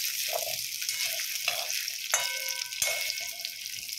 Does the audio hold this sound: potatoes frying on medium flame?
yes